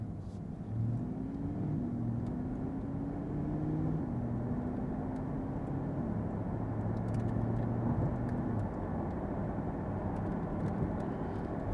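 A 2021 Corvette Stingray pulls away and drives on with a low, steady engine rumble that rises gradually in pitch as it gains speed, heard from inside the cabin at moderate, even loudness.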